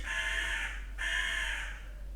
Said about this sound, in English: the crows always come in when something important is being said